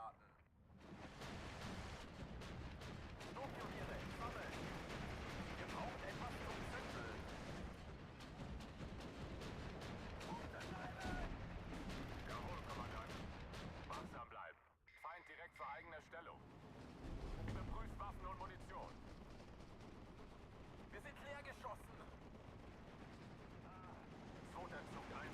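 Mortar and gunfire boom through a war video game, dense and loud for long stretches, broken by a brief lull before more distant blasts and battle noise return, with a voice talking over it.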